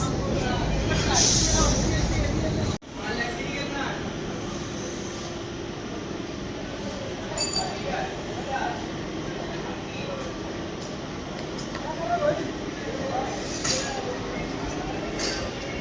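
A train rolls past near Howrah–Bardhaman, a steady loud rumble of wheels and coaches with a sharp jolt early on, continuing throughout with faint clinks and a voice talking over it.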